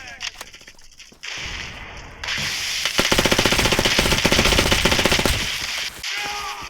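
Rapid automatic gunfire rattles in the mobile shooter game Fire Front, a dense, loud burst of rounds following quieter game sounds and a short gap.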